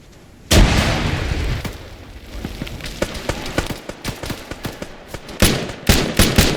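Grenade blast in a snowy combat video game, one sudden loud boom followed by a rapid string of gunshots and sharp pops nearby.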